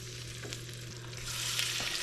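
Chicken sizzles in olive oil in a pan for Italian-inspired chicken and potatoes, a steady close frying hiss with scattered small pops and crackles that swell slightly louder toward the end.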